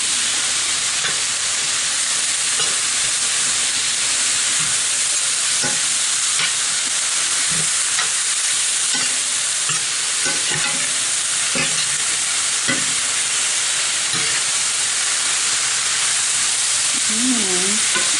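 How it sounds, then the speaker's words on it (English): Ground meat and vegetables for shepherd's pie fry in a pan with a steady, loud sizzle and hiss, punctuated by occasional stirring scrapes and clicks, close up with no talking. "I let this fry up and then come right back"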